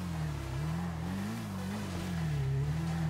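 A motorcycle engine in GTA V, ridden up a mountain beside a waterfall, hums steadily with a wavering low pitch that rises and falls gently as the throttle shifts, loud and continuous, with no talk.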